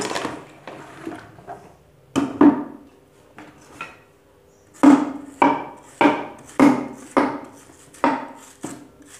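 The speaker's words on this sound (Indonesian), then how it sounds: "kita iris-iris dulu nanti di blender." Plant material being sliced with a knife on a board for a homemade fermentation starter, with a series of sharp, evenly spaced chopping thuds, close and loud, growing more regular toward the end.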